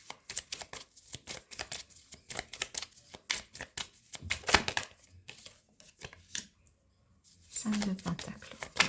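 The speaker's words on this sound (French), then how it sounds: "il y a trop de cartes" Tarot cards shuffled and riffled up close in a rapid train of crisp flicks and snaps, with pauses between bursts and a voice talking over them.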